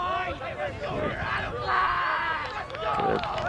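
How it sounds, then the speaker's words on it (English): Spectators at a high school boys soccer game against Pembroke fill the air with a loud, steady crowd roar and babble of many voices, swelling midway and again near the end. "A big crowd here."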